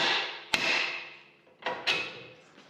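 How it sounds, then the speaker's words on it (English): Hammer blows strike a steering knuckle on a Toyota/Lexus front axle to drop the tie rod: one sharp metallic hit followed by two more close together, each ringing briefly before fading. "you're just going to take a hammer and hit the knuckle itself"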